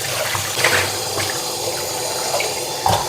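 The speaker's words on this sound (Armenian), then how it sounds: "թող ջուրի տակ մի հատ լավ լվանամ" Running tap water streams steadily into a sink as something is rinsed under it, with a few brief splashes and clatters over the constant flow.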